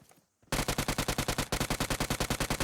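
Rapid automatic gunfire in PUBG Mobile starts abruptly after a short quiet moment, then runs as a loud, steady burst of close shots with even spacing to the end.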